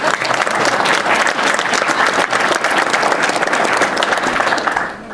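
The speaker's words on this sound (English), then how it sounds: "let's give North Star District a round of applause" An audience at a Boy Scouts council recognition dinner applauds, steady dense clapping from a full room that holds for several seconds before tapering off.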